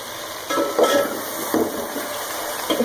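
Chicken sautés with ginger garlic paste in a pan for biryani. A soft sizzle runs under several scraping stirs from a spoon against the pan, close up and with no talk.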